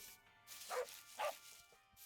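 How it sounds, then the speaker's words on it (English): A dog in the Minecraft video game barks twice in quick succession, short light yelps close by over a quiet background. "that one has kind of a lighter bark"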